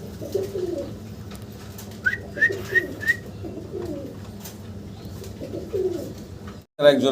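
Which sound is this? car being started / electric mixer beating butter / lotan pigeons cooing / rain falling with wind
lotan pigeons cooing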